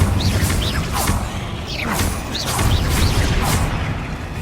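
Confringo fire-spell bursts go off in rapid Hogwarts Legacy combat on PS5, several whooshing shots ending in booming impacts, one after another, loud and close.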